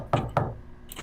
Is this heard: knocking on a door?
yes